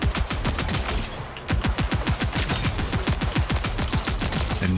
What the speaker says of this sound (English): I shoot it to weaken him before killing him